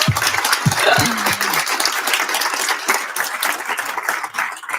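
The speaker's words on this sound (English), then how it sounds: "let's give her a huge round of applause" Audience applause at a university spring speaker series lecture, steady dense clapping filling the whole stretch, with a brief voice near the start.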